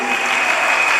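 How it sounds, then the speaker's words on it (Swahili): A church congregation claps for the worship leader during a service, dense sustained applause filling the room, loud and close throughout. "Tupigie kiongozi wa ibada makofi mazuri."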